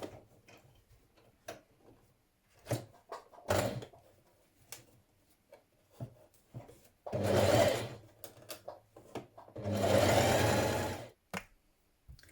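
A sewing machine stitches around elastic while a dress is sewn, running in two short loud bursts, each a second or so, separated by soft clicks and handling taps.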